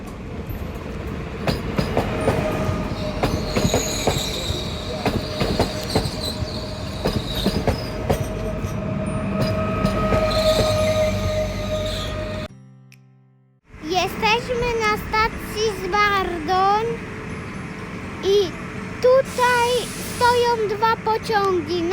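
A Polish passenger train bound for Zwardoń rumbles steadily with broadband rail noise, then after a brief drop comes rhythmic wheel clatter and squeals; faint voices occasionally sound underneath.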